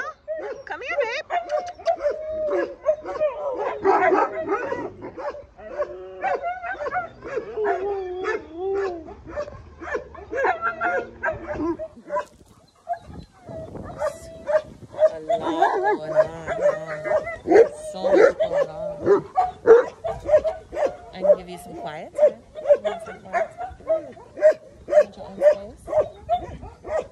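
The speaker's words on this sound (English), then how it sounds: "It's a lot of dogs here" Several dogs bark, yip and whimper in a busy indoor space, with a dense run of overlapping calls, a brief lull midway, then sharper repeated barks close by.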